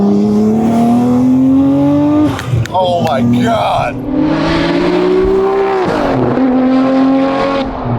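A 600-horsepower Nissan Skyline R34 GT-R accelerates hard in a loud, close engine pull, its revs climbing steadily with a brief gear-change break and a second rising run, while an occupant exclaims over it.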